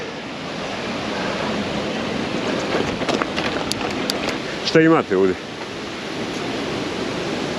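Waterfalls on the Vrbas river roar as a continuous broadband rush, with a person briefly speaking over the water partway through.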